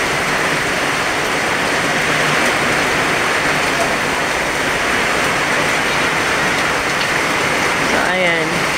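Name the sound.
heavy rain falling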